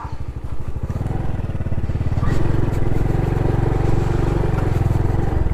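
A Honda Pop 110i motorcycle engine idles close by with a steady, rapid putter that grows louder and fuller partway through as the bike is moved.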